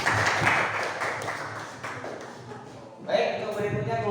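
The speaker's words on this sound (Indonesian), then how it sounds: "Tepuk tangan." A class of students applauding during a school lesson, a dense patter of hand claps through the first part, fading toward the end while a teacher's voice talks over it.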